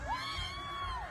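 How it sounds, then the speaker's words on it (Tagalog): Fans scream at a concert, with one long, high, wavering shriek held above a dense, distant crowd roar of cheers and whoops. "Grabe ang sigawan ng mga ka-Jeromantics"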